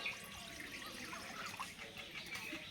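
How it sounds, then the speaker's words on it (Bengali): Water trickles and splashes steadily into a cooking pot holding beef set to boil, a close, continuous pour with no one talking. "এবার এখানে জল দিয়ে দেব"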